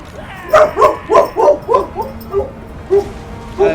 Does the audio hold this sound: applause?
no